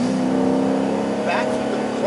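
A modified Chevy Caprice police car with headers and XR1 mufflers produces a steady, droning exhaust rumble at close range, with a brief rising rev partway through and a voice talking faintly underneath.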